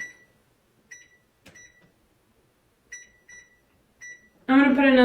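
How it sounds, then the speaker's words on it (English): A kitchen timer set while cooking dinner gives a series of short, sharp electronic beeps, some single and some doubled, spaced through a quiet room before a person starts talking. "I'm gonna put another 15-minute timer on and just let them cook."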